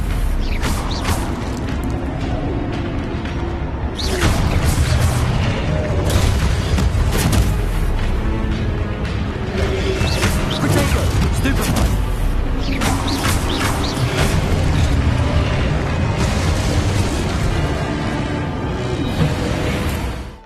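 Casting Leviosa and Stupefy in the Hogwarts Legacy video game, played in full-body VR, brings a dense stream of magical whooshes, creaks and heavy booms that overlap constantly at high volume for about twenty seconds.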